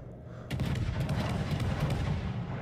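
Warship guns fire in World of Warships, opening with a sudden heavy boom after a quiet moment, then a dense rumbling barrage of rapid thuds and crackles sustained loudly to the end.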